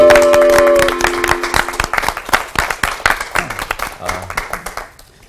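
A crowd at a church Bible study lecture breaks into loud, dense clapping that thins out toward the end, with talking over the start of the applause.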